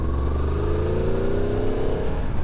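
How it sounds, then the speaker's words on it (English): Low, steady chugging of a 2023 Yamaha MT10 motorcycle engine at about 2000 rpm in fourth gear, loud and close with a throbbing drone and slowly rising harmonics, no voices. "2000 revs in fourth"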